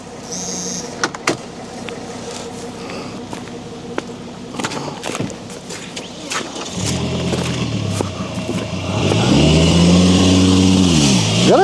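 An off-road car engine idles, then revs harder and builds into rising and falling acceleration, loud and close, with clatter and knocks from rough terrain throughout.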